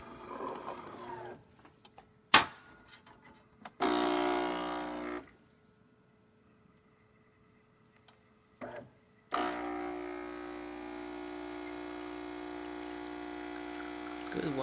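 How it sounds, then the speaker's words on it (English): A DeLonghi espresso machine brews a shot, its pump giving out loud, steady mechanical humming bursts separated by quiet gaps, then a long sustained run of buzzing with liquid flowing. "Good water flow and good color coming out of this machine."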